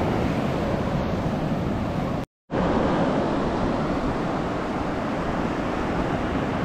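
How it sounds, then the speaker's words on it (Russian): High, rough surf crashing onto a beach, a loud continuous wash of breaking waves that fills the whole stretch, cut by a brief total dropout midway. "Волны бушуют, такие высокие, но некоторые еще умудряются купаться."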